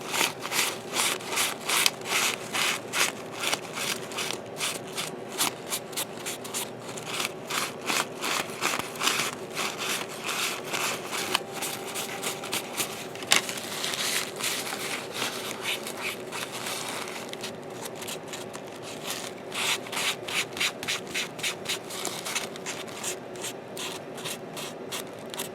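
A lint-free cloth rubs over a 1/144 Bandai Millennium Falcon plastic model kit in steady, close back-and-forth strokes, a continuous dry scrubbing that goes on with no talk.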